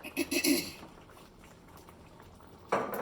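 Gravy bubbling and thickening in a nonstick skillet as a breakfast dish cooks: a few soft, close bubbling bursts at first, then a quieter simmering stretch, and another burst of bubbling near the end.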